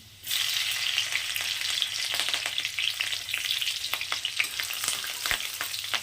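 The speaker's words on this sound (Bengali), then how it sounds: "কাঁচা লঙ্কাটা একটু হালকা ভেজে নিয়েছি" Hot oil sizzles steadily up close as green chilies fry, with scattered sharp crackles and pops throughout.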